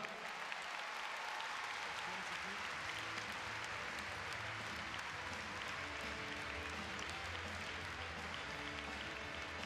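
Indoor arena crowd applauding a show-jumping rider at the Bordeaux international jumping derby: sustained, even clapping from a large audience that holds a constant level throughout, a broad roar filling the hall.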